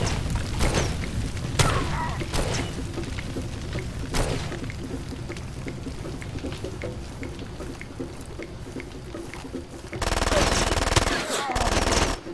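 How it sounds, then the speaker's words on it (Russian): Sniper rifle shots in the Far Cry 2 video game: a few sharp, spaced cracks ring out at moderate distance over steady ambient rumble, ending in a loud harsh burst near the close. "Явно снайпер где-то работает"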